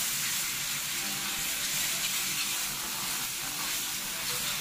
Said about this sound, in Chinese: 再下入牛肠，这样子来煸炒，把它的水分给它煸干